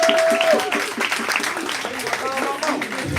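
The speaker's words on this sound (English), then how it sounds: "Make some noise for that poet one time." A poetry slam audience claps and cheers for a poet in a dense burst of applause, with voices calling out and talk heard over the crowd.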